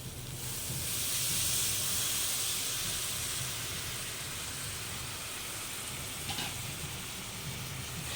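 Chhana whey water is poured slowly into a hot spice masala for a Bengali potol dorma, giving a broad, steady hiss and sizzle that swells and then settles, fairly faint.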